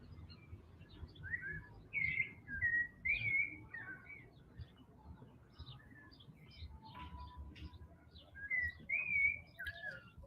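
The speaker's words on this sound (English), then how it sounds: "My dog keeps looking around for the birds." Small birds outdoors whistling and chirping in short repeated phrases, moderately distant over a low steady background rumble, growing louder in bursts with quiet gaps between.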